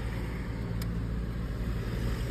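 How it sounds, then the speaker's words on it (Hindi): Busy road traffic with cars and a truck makes a steady, close engine rumble and low road hum. A short bright tick cuts through partway, and no voices are heard. "ओ यार कितनी ट्रैफिक, आज ना ट्रैफिक भी बहुत ज्यादा है।"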